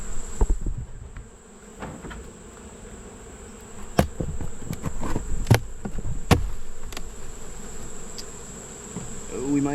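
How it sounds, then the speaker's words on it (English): A steady insect buzz of many honeybees at an open hive hums throughout, with scattered knocks and clicks on top, close and moderately loud. "That is a nice amount of bees"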